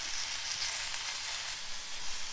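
Spinach, uncovered in a pan, fries slowly with a steady, soft sizzle that holds at an even level throughout, with no voices.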